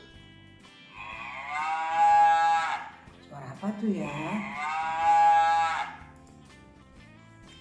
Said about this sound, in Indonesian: Tuh, sapi.